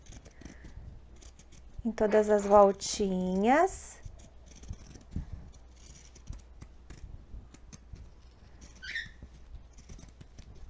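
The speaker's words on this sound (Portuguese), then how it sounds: "eu preparo ela cortando com a tesoura de picotar" Pinking shears snipping through fabric for a cloth doll's dress collar, a few quiet crisp cuts under someone speaking Portuguese nearby.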